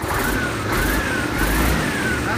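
A car engine revs up and down as the gas is pressed, a close, loud whine that rises and falls in a couple of smooth swells over a steady idle rumble.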